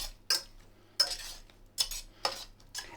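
Metal utensil scraping and stirring onions into potatoes in a pan, four or five distinct scrapes spaced about every half second, close and fairly quiet over a low hum.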